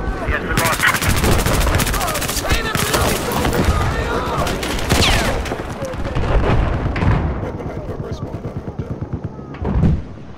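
Heavy automatic gunfire and bursts in a Battlefield 4 conquest match on Hainan Resort, loud and sustained for most of the stretch before thinning into scattered shots, with a player talking over it.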